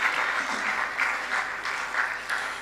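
Audience applause at the launch of the GIMPA Arts and Culture Exhibition in Ghana, a steady wash of clapping held at an even level throughout, with swells of louder bursts every second or so and no voices over it.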